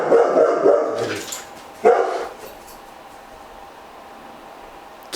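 Marley, a pet dog, barks loudly indoors in a quick series of close, rough barks, then one more sharp bark after a pause, followed by a quieter room with faint background hum.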